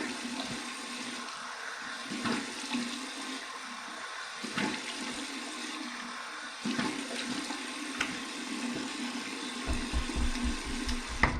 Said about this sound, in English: Okay, here's my cold water rinse.